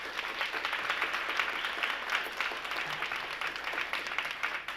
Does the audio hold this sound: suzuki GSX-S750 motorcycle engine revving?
no